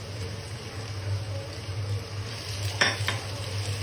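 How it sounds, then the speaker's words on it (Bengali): Onion frying with ginger-garlic paste in a pan for chicken khichuri, a low steady sizzle with occasional stirring scrapes of a utensil against the pot, close by and without talk. "এখন আমি দিয়ে দেব আদা আর রসুন একসাথে পেস্ট করা ছিল"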